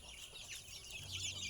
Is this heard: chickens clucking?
yes